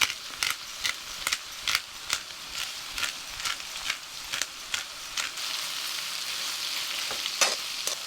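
Pork belly sizzles in a pan for Filipino Bicol Express with coconut milk, a steady fry broken by a regular run of sharp scraping stirs about every half second, then a calmer hiss.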